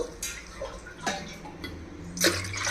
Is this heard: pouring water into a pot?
yes